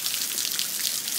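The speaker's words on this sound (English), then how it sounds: "Look how much rain there is over there." Heavy rain in Texas pours down steadily, a dense, continuous hiss of drops drumming on surfaces nearby with no pauses and no voices.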